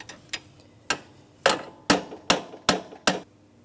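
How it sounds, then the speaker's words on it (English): A hammer taps sharply on a metal clip about seven times while replacing the A/C condenser of a 2004-2008 Pontiac Grand Prix 3.8L V6, at a steady, slightly quickening pace, close and clear. "Now I'm going to tap on this with a hammer."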